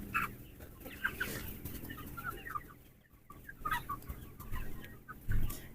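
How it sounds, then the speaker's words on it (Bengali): Clucking chickens on a poultry farm of about five thousand birds, steady overlapping clucks and calls at moderate distance with a constant low background hum. "পুরো পাঁচ হাজার মুরগি"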